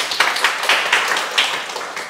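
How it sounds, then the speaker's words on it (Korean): A lecture audience breaks into applause, a short burst of many hands clapping with a few sharper individual claps standing out, fairly close and loud. "네, 큰 박수 부탁드립니다."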